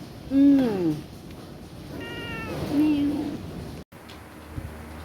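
A domestic cat meows repeatedly up close indoors at feeding time, two clear rising-and-falling calls with a shorter one between, amid quiet room noise and some human voice.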